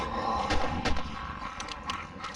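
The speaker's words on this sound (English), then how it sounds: "Harris, put the grenades in the bag with the satchel charge." Grenades bundled with a satchel charge go off as an audio-drama effect, a short burst of rumbling blasts and sharp cracks, the explosions heavy at first then scattered smaller bangs trailing off.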